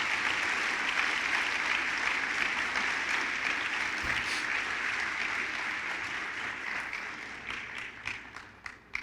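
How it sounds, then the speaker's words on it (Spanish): A church congregation breaks into sustained, enthusiastic applause, a dense wash of clapping hands that holds steady and then thins toward the end. "Dale el aplauso al Señor con gozo."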